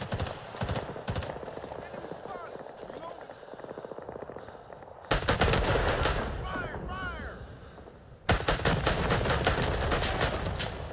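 Automatic gunfire crackles in bursts throughout a Rising Storm 2 battle, with rapid repeated shots growing louder and denser after the midpoint, layered with other battlefield noise and occasional shouted voices.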